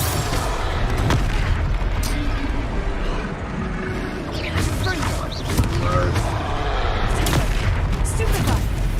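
Confringo fire spell blasts in Hogwarts Legacy, with sharp booming impacts and crackling bursts at intervals over continuous game noise and a talking voice.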